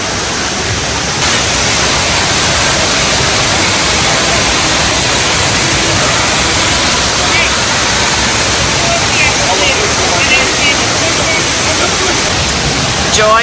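A waterfall in Connecticut pours with a loud, unbroken hissing rush of water that stays constant from start to finish.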